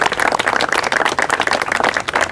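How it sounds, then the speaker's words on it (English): Audience applause after a call to recognize a group, a dense continuous patter of many hands, loud and sustained throughout with no talk over it. "Let's give them a round of applause for what they did."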